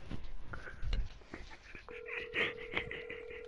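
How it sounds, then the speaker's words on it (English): A telephone rings with a steady tonal ring in short bursts, fairly faint and heard alongside background talk. "I can hear the phone ring."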